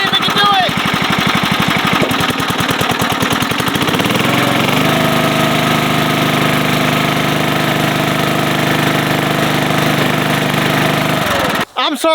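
A heavy mud mower engine labors loudly while pulling an old broken baler, a steady rough drone with strong low thumping throughout that cuts out abruptly near the end.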